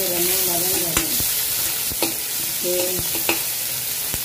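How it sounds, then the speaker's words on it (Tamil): Onions, garlic and green chillies fry in hot oil, giving a loud continuous sizzle close by, with a spoon stirring and scraping the pan every second or so. "பச்சை மிளகாய் எல்லாம் போட்டு நல்லா பொண்ணுரமாக வதங்கணும்."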